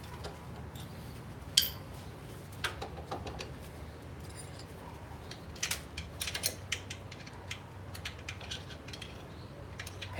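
A wrench ratcheting in a home garage during brake work on a Mini Cooper, quiet intermittent clicks and short ticking runs with pauses between them, over a low steady background hum.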